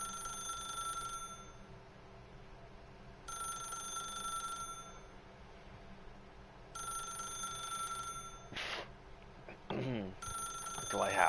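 A telephone rings in The Stanley Parable: Ultra Deluxe, its bell in repeated bursts with pauses between them, fairly clear over low background music, with a few brief sounds near the end.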